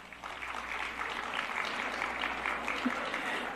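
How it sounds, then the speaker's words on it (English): Applause from an audience at a press briefing, a steady dense wash of clapping that holds for the whole stretch and sounds fairly distant, with speech mixed in. "we will all gather here together and clap for them"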